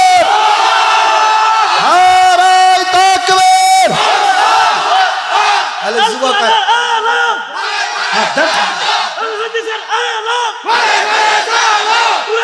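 A large crowd at an outdoor Islamic religious gathering roars a takbir chant in unison, loud and close, with sustained massed voices rising and falling in repeated waves of shouting.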